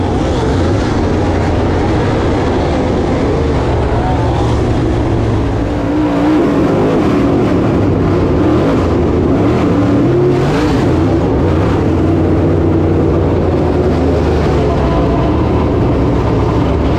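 Dirt late model race cars roar together at Whynot Motorsports Park, a dense, continuous engine drone that swells and rumbles steadily for the whole stretch, loud and close with no speech over it.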